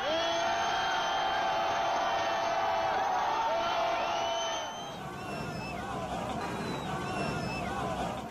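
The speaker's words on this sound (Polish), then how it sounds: "Syryjczycy wiwatują na ulicach" Syrians cheer in the streets, a dense crowd of whoops, shouts and babbling voices that rolls on continuously, loud and close, with some individual yells rising above the mass.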